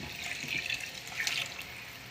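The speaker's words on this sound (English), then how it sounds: "I've got 4 cups of water here. I'm going to add this in" Four cups of water poured into a soup pot of curried sweet potatoes and carrots, giving a soft, steady splashing trickle that stays faint and close, with no voices.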